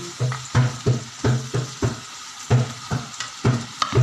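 String beans adobo in a pan sizzles loudly and close, with a regular rhythm of roughly a dozen stirring scrapes spaced about half a second apart, all without speech.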